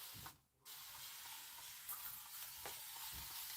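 Fine mister spray bottle spritzes water during sewing prep, a soft continuous hiss broken by a brief pause and a few small taps, faint and without voices.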